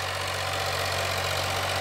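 A Sonalika 745 DI tractor engine runs steadily in a village field, a loud, close, even diesel drone with a low knocking throb, no speech.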